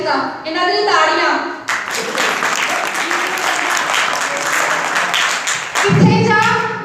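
A church congregation breaks into loud, sustained applause during a sermon, a dense wash of clapping lasting about four seconds, with a speaker's voice heard before and after it.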